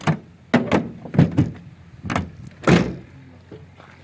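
A rusted, misaligned car door is pushed and slammed shut several times in a row, each attempt a heavy, close thunk with rattling, uneven pauses between them.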